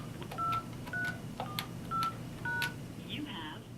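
A series of keypad tones on a 400 series business phone as a voicemail password is entered, five short evenly spaced beeps over a low background hum, then a brief rising electronic chirp.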